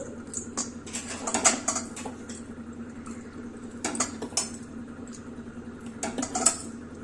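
Grated fresh coconut scooped and packed into a small bowl for measuring, with a series of light clinks and scrapes of bowl and utensils, close and fairly quiet, several bursts spread across the stretch.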